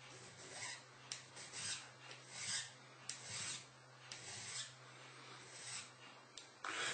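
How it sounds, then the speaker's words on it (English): A fine file rasps across a bone nut being shaped for a banjo at a luthier's bench, with steady back-and-forth strokes in an even rhythm, close and fairly soft. "switch to a finer file."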